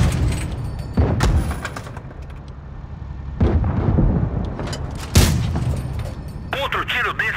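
Several heavy tank cannon blasts in World of Tanks Blitz boom out at irregular intervals, each a sharp broadband burst, over a continuous low rumble of game noise.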